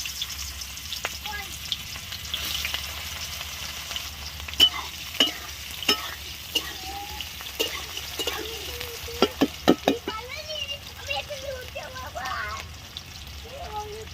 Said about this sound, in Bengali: তেলটা আমাদের গরম হয়ে গেছে, পেঁয়াজগুলো দিয়ে দিলাম।